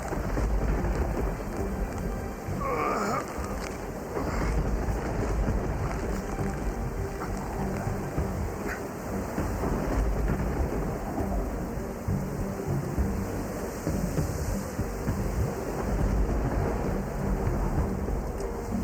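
A storm of steady, heavy rain on the ground, with low thunder rumbling underneath, continuous and fairly close, with no voices.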